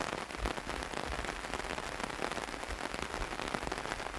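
Rain falls on an umbrella and garden plants in mid-September, a dense, close patter of drops with irregular louder taps, heard alone without speech.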